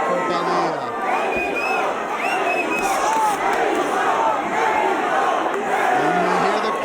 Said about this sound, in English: And the Mexico chants are coming out for Padilla.